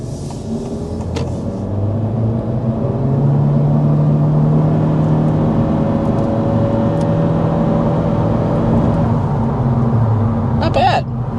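A 2024 Honda Civic small sedan climbs a hill under acceleration, giving a steady engine hum and road rumble from inside the cabin that holds throughout at moderate, even loudness.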